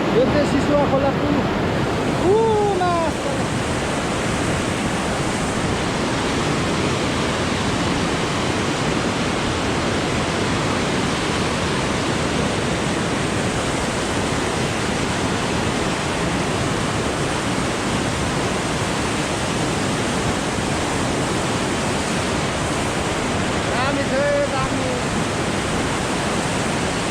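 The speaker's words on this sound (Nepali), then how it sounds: "यो चाहिँ सिसुवा खोला है" Sisuwa river rushing beneath a footbridge, a loud continuous roar of fast flowing water that stays steady from start to finish, with brief faint voices over it.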